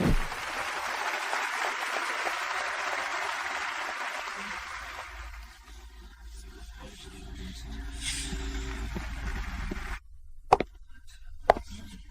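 An audience applauding to welcome a keynote speaker at a business summit, dense sustained clapping that fades after several seconds, followed by a few isolated knocks in a quiet room.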